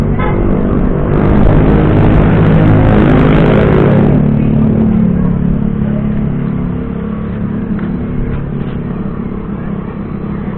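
A small motorcycle engine runs nearby, building to a strained rev in the first few seconds and then settling into a steady, buzzing drone that carries on loudly to the end.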